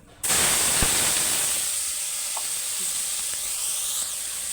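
Steady, loud sizzling of onion and tomato paste frying in hot oil, starting abruptly and continuing evenly throughout.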